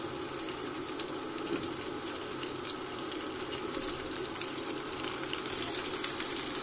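Chopped tomatoes fry in hot oil with garlic paste, giving a steady, dense sizzle and hiss that runs evenly throughout with no talking.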